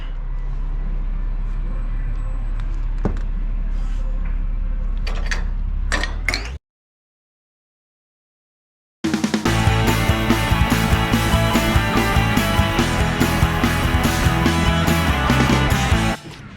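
New wheel studs are pressed into Honda Del Sol wheel hubs, with mechanical creaks and sharp metallic clicks, a break of silence, then a loud, dense grinding press with rhythmic knocks, all near and without talk.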